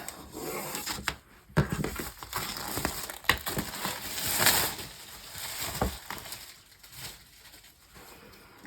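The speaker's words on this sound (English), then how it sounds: "let's get this frame out of its packaging" Large diamond painting frame with a Perspex cover being pulled from its packaging, giving close crinkling, rubbing and crunching of wrapping material with several sharp thumps and scrapes, no talking.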